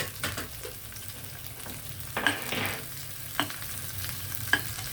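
Cumin, mustard seeds and dried chillies dropped together into hot oil for an onion tomato chutney, giving a steady close sizzle with scattered crackles and pops, no voices.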